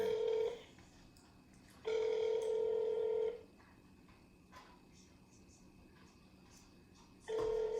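A cell phone call rings out with a steady electronic ringback tone in three bursts, each about one to one and a half seconds long, separated by quiet gaps with faint background noise.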